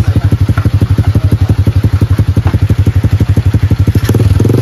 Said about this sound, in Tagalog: Yung motor, sinasakyan ng papa ko papunta dito